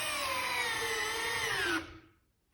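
A Festool CXS drill/driver spins at speed 2, driving a trim head screw with a loud, steady high whine that sags slightly in pitch under load, then cuts off and rings down into quiet.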